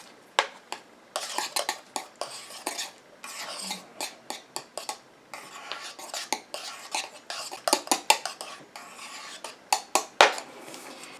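A utensil stirs a glitter hair conditioner mixture in a container, making a string of irregular clinks and scrapes in short bursts, close and fairly quiet, with gaps between strokes.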